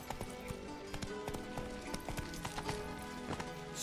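Roach the horse gallops in The Witcher 3, a quick, even rhythm of hoof clops, fairly faint and steady over a soft background with no talking.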